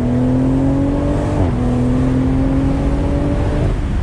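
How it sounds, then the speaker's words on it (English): Engine of a 2020 BMW Z4 M40i roadster under load, a loud, steady drone with a brief dip and shift in pitch midway, heard from the cabin with no talk; distinct exhaust pops are not clearly separable. "I love the pops coming from the exhaust"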